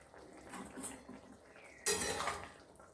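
Fried hilsa fish pieces are dropped into a pot of taro curry, giving a sudden loud sizzle and clatter near the end, with faint kitchen clinks and utensil sounds before it.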